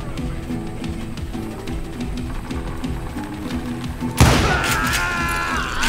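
Call of Juarez: Gunslinger game gunfire crackles in a steady background rattle, then a sharp loud shot cuts in near the end, followed by a ringing, buzzing tail.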